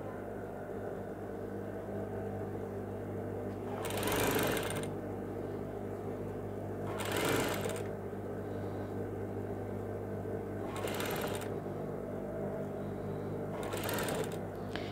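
A sewing machine stitches a blouse sleeve in four short whirring bursts a few seconds apart, close and fairly quiet over a steady background hum.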